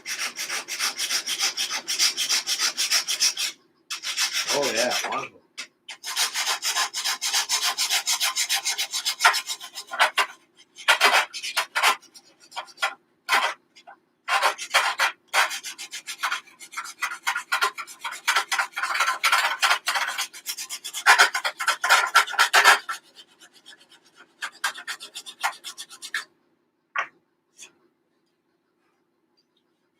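Fine sandpaper rasps against the wooden hull of a Billing Boats La Curieuse model ship in quick, close back-and-forth strokes, pausing several times in a stop-start rhythm before going quiet, with a brief spoken remark.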